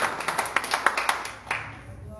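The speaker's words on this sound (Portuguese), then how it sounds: "É para Jesus essas palmas?" A church congregation claps in a steady rhythm during a worship service, roughly a dozen sharp, even claps close together, fading out near the end with faint voices underneath.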